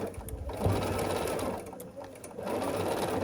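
A sewing machine runs steadily, stitching a scrappy sampler quilt block; the motor hum swells and dips slightly as it sews, close and fairly loud, alone with no talk.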